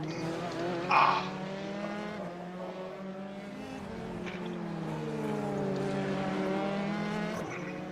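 Racing cars in a video game whine past with rising and falling engine pitch and a brief tire squeal, layered engines droning continuously at moderate volume.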